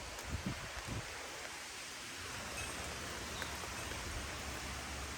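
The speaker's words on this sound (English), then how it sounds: "got some good rain" Steady rain falls outdoors in Ohio on a spring morning, a dense, even hiss of drops that continues throughout, with a few faint thumps near the start.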